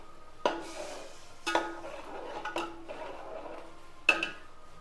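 A spoon stirs melting jaggery in a cooking pot, giving four sharp scraping clinks spaced about a second apart, with a soft hiss between strokes and no voices.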